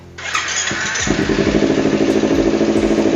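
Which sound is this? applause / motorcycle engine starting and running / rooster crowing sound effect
motorcycle engine starting and running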